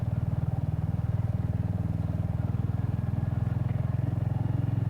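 Royal Enfield Hunter motorcycle riding along narrow country lanes, its single-cylinder engine thumping in a steady, even low pulse throughout, close and continuous with no talk.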